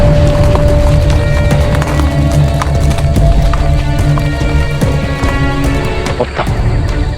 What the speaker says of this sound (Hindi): अश्व लाइए।